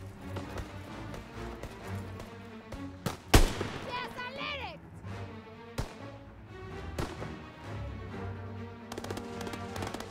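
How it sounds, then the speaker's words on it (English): Bomb explosions in Call of Duty WWII multiplayer: one sharp, loud blast near the middle with a brief rumbling tail, plus a few smaller cracks and pops over constant game background noise. "Enemy bomb incoming. Get to cover."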